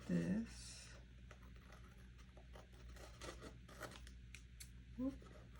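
Scissors snip through paper for a floral-themed Happy Planner layout, a few close, dry cuts with light rubbing and handling of the sheet between them, no talking.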